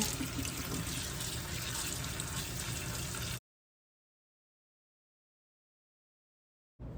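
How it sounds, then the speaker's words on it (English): Cold tap water runs into a kitchen sink to rinse quinoa, a steady hissing splash for about three seconds before the faucet cuts off into silence. "To wash my quinoa in a cold water."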